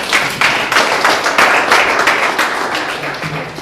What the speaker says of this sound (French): Est-ce que vous pouvez d'abord applaudir